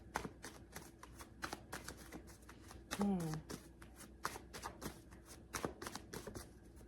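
Oracle cards being shuffled by hand, a run of crisp riffling flutters and soft taps repeating steadily at close range, with brief speech passing over them.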